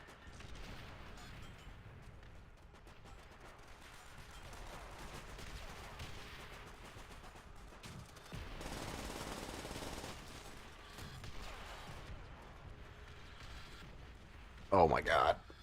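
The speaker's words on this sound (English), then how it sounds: "Artillery strike inbound on my position." Gunfire and artillery strikes in a VRChat game map, scattered rattling shots and dull booms at a distance, with talk over them and a louder burst near the end.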